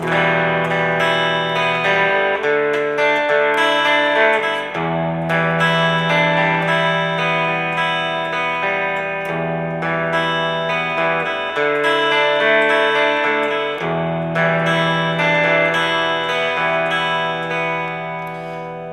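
Verse chords of a song are strummed on an effected, slightly distorted electric guitar in a repeating pattern of sustained chord changes every few seconds, loud and steady with no talking.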